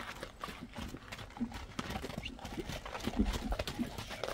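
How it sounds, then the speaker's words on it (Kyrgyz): A horse being led at a walk clops its hooves on the ground in an uneven, close rhythm of distinct knocks, with light background noise. "эми мингенине бастырчы, мына жетелеп бастырдым"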